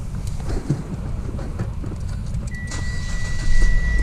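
A Mitsubishi Xpander with a starting fault and a stiff brake pedal, heard as a steady low engine rumble with a thin whine that joins partway through and a louder surge near the end.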